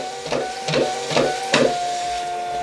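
A MUNBYN RealWriter RW402B Bluetooth thermal label printer powers on and feeds label paper, giving four short whirring mechanical bursts spaced about half a second apart over a steady electronic whine, close and fairly loud.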